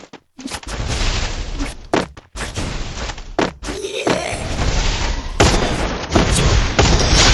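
Gunfire in a shooting video game, with a headshot landing among dense, loud bursts of shots and thuds that run almost continuously over several seconds, broken by brief gaps.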